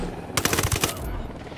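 Rapid burst of gunfire in Ghost Recon Wildlands, a quick string of sharp close shots lasting under a second, followed by lingering game ambience.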